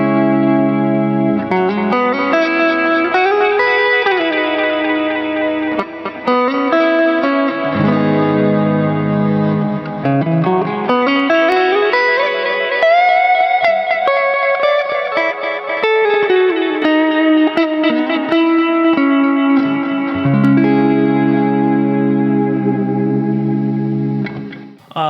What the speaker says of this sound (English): This is doing my drum, old tape echoey kind of sound.